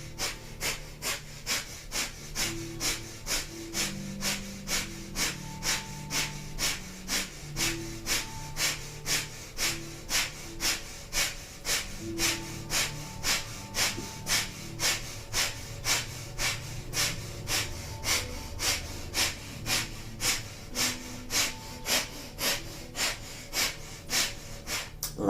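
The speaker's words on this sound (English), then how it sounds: "we'll begin breath of fire, panting like a dog through the nose" Rapid, rhythmic breath of fire during a Kundalini yoga practice, sharp panting exhalations pumped through the nose at a steady fast pace, close and continuous with no talking.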